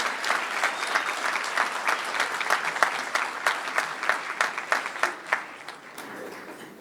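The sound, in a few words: audience applause for students at board meeting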